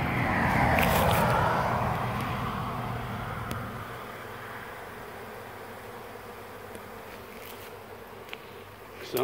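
A swarm of honey bees buzzes in a dense, steady drone, loudest in the opening seconds and then fading to a softer hum with a few brief knocks.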